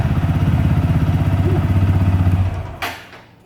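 A TVS Apache 200 4V motorcycle engine running just after starting, a steady loud close idle with a rhythmic low throb that cuts off near the end, followed by a brief clatter.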